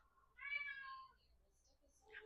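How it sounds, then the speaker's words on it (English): A house cat meows in a drawn-out, tonal call lasting about half a second, fairly close and clear, with a faint second sound near the end and a quiet room around it. "All the cats are very verbal today, at least Julia and Tanner."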